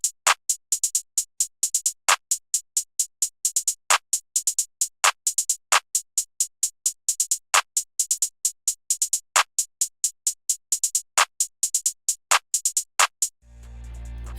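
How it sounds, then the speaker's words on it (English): Basic clap and hi-hat pattern from a guitar-based trap beat: rapid, steady hi-hat ticks with a clap accenting regularly, ending in a low swelling tone, loud and alone. "I have just a basic clap and hi-hat pattern that sound like this."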